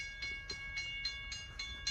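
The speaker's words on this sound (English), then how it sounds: "The train is coming." A train passing in the distance, faint rhythmic clickety-clack of wheels with a high tonal ring, steady and quiet with no talk.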